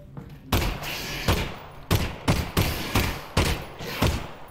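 Gunshots from a gun in the game Half-Life: Alyx: about seven loud, sharp reports with heavy thumping bodies, fired singly at an irregular pace of roughly one every half second to second, close up with no talking.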